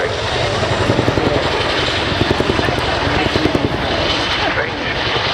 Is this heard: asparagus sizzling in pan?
no